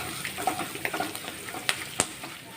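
Curry leaves are stirred into a potato snack masala in a pan, with a soft sizzle underneath and scattered sharp clicks and scrapes of a spoon against the metal, fairly close, with no voices.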